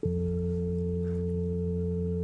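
Two sustained synth notes ring together as one steady chord, demonstrating the harmonic series in Goa trance, even and unbroken, with no other sounds.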